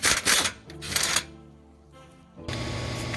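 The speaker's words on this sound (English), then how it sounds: "it's easiest for me to get a extension like this with a swivel on the end of it to reach down there and get all 3 bolts out" A hand ratchet on an extension with a swivel loosens engine mount bolts on a 2010 Chevy Avalanche, giving quick close clicking bursts, a brief pause, then a sustained ratcheting buzz.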